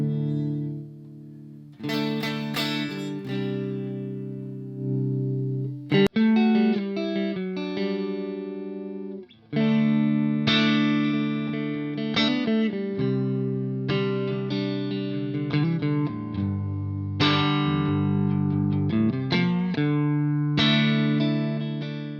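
Clean electric guitar played through a Morgan MVP66 amp, strummed chords and single notes ringing with a warm, slightly chorused shimmer, steady and fairly loud, no voices.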